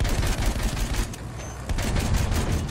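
Rapid bursts of gunfire and explosions in the first-person shooter Battlefield 1, dense overlapping shots and booms crackling nonstop across the whole moment, loud and close.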